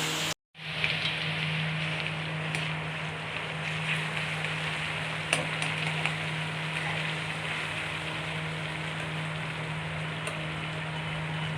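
Chicken frying in a pan in a home kitchen, a steady, dense sizzle that runs unbroken for the whole stretch after a brief silent start, with a low constant hum beneath and no talking.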